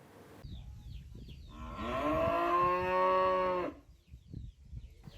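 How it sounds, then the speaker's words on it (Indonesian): Sacrificial cattle mooing in a farm pen in a rural Indonesian village, with one long, loud, drawn-out moo rising from quiet background noise and then fading back to ambient sounds. "Sapi kurban di kandang peternakan warga desa Gunung Sari"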